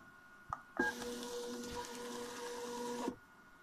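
A Juliette Pro braille embosser fast-forwarding paper: a faint click, then a loud mechanical whirring with a steady tonal hum that runs for about two and a half seconds and stops abruptly.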